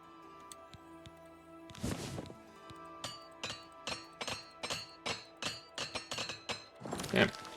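Repair hammers strike armor in the video game Oblivion Remastered, a run of about a dozen sharp metallic clinks and taps at a quick, fairly even pace, with a couple of louder clattering bursts, over faint background tones.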